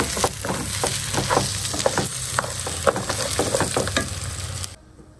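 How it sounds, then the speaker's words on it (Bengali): Ghee and kewra pilaf (polao) is stirred in a pot, a steady sizzle with scraping spoon strokes that stays close and fairly loud for most of the clip, then drops off sharply near the end. "যে আমি ঘি দিয়ে দিলাম আর কেওড়া, এখন একটু নেড়ে ছেড়ে দিব"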